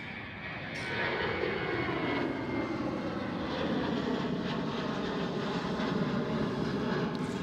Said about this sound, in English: Next one to depart, KLM 737